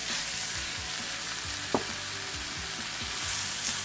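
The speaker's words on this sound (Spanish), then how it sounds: "Revolvemos un poco, no vamos a dejar a que se dore ni nada, nada más vamos a revolver." Rice with mushrooms being stirred in a hot pan, producing loud, continuous sizzling with rhythmic scraping strokes and one sharp knock of a utensil midway, close by, with no talk.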